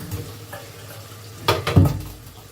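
Tomato with turmeric, coriander, cumin and chilli powders frying in a pan, a soft low sizzle with a few scraping stirs, then louder bursts of spatter and clatter near the end as the spices are stirred.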